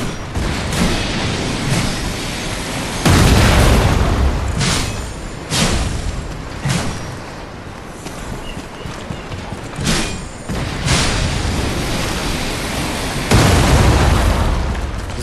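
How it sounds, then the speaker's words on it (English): Mortar explosions in the video game Lies of P go off as a run of heavy booms and blasts, several loud bursts rising over a dense, constant wash of game noise. "The mortars are not the worst part of this for sure."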